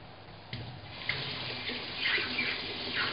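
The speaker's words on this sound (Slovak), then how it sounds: "vrchnú nádobku riadne prepláchnuť" Parts of an aluminium moka pot rinsed under running tap water, a steady close stream with clunks and splashes as the pieces are moved under the flow.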